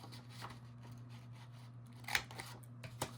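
Scissors snipping through a book page for a paper craft, a few quiet, sharp cuts spaced apart over a steady low electrical hum, with no voices.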